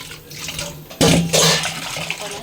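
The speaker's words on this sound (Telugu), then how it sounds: "చింతపండుని ముందుగా కడిగేసుకుని నీట్గా" Tamarind is rinsed by hand in water in a kitchen: a sudden splash and pour starts partway through, churns briefly, then tapers to a softer trickle.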